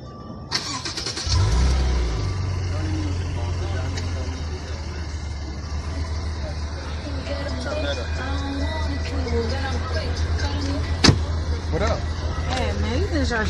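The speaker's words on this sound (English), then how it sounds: "Start the car" A car engine cranks and catches on a night street, then settles into a steady low idle and drive hum, with people talking over it throughout and a sharp click late on.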